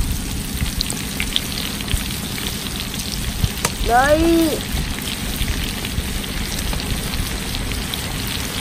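Battered enoki mushrooms deep-frying in hot oil, a loud, dense, steady crackle and sizzle close by for the whole stretch, with a woman's brief word and a short rising squeal partway through.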